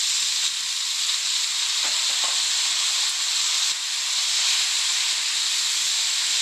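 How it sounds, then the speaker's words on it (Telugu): Spinach frying in a pan with turmeric, a loud steady hiss and sizzle throughout, with a few faint clinks of stirring partway through. "పాలకూర మొత్తం దగ్గరగా ఫ్రై అవ్వాలి అలా కలుపుకుంటే పాలకూర అయితే ఫ్రై అయిపోతుంది"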